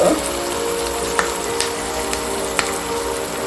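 Curry leaves and asafoetida sizzle steadily in hot oil for a potato sabji, a continuous broadband crackle with a few sharp pops and ticks scattered through, close and fairly loud with no talking.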